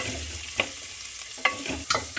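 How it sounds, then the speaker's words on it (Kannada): Quiet sizzling of onions frying in coconut oil in a pan, with a few sharp scraping or stirring bursts; no voices. "ತೆಂಗಿನೆಣ್ಣೆ ಕಾದಿದೆ ಇದಕ್ಕೆ ಈರುಳ್ಳಿ ಟೊಮೊಟೊ ಹಾಕಿ ಫ್ರೈ ಮಾಡೋದು"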